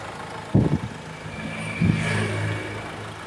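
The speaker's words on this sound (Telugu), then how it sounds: "ఇంజిన్ అయితే సౌండ్ చాలా బాగుంది సార్, చాలా స్మూత్ సౌండ్ ఉంది. డీజిల్ ఇంజిన్ బాగుంది." A 2016 Mahindra XUV500 W10 diesel engine runs at a steady idle, a low continuous hum with two brief louder bumps near the start, heard close with no talking.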